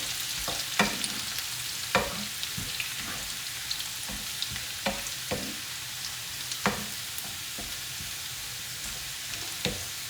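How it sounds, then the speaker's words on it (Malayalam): Garlic sautés in a pan for mango pickle, a soft steady sizzle under repeated sharp scrapes and taps of a spoon stirring it, with no voices. "നന്നായി ഇളക്കി കൊടുക്കുക. കരിഞ്ഞു പോകാതെ നോക്കണം."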